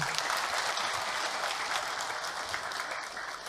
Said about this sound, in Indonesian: tepuk tangan sekali untuk Ahilman